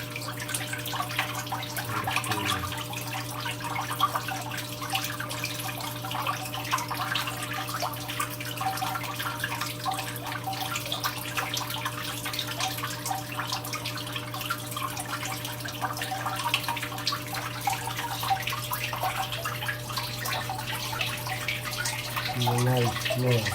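Water runs steadily through a fish tank filter system, a continuous even wash of flow with a faint hum underneath, holding level throughout with a small change near the end.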